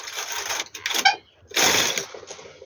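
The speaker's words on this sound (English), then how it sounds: "Then I'm going to knit 6 rows right now." A knitting machine carriage sweeps across a row, making a close, loud mechanical whirring clatter in two passes separated by a brief pause, with a few clicks in between.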